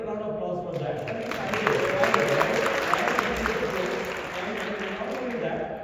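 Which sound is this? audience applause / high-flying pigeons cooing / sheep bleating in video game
audience applause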